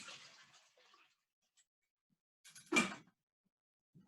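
A short burst of water pouring into a container, loud and close, preceded by faint handling noises and near silence.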